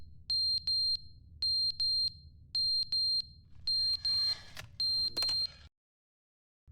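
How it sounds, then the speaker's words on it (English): A fire alarm in The Stanley Parable video game rings in loud, repeated electronic beeping bursts with short gaps, its pattern turning harsher and noisier toward the end before cutting off abruptly, all over a low steady hum. "Hello, fire alarm."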